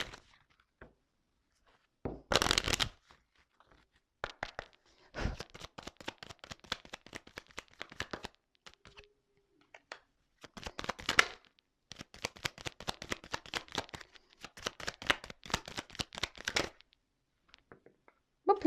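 Oracle cards being shuffled and drawn during a reading, quiet papery riffles and taps in short bursts separated by silent pauses, close and soft throughout.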